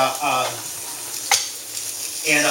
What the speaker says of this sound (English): we're just gonna get a really nice sear on it